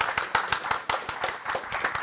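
A small audience at a Kotlin programming talk claps in scattered, uneven bursts, distinct individual claps popping out rather than a full roar, fairly close and lively for about two seconds.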